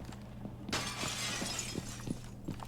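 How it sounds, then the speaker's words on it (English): A sharp burst of shattering glass in a competitive video game match erupts and crackles for about two seconds, loud and close over a low steady hum with faint thuds. "Or maybe he won't, if he didn't hear that glass break."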